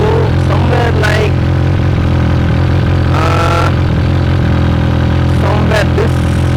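A motorcycle engine idles steadily at close range, its low rumble constant throughout, with brief clatters and faint mechanical sounds rising over it.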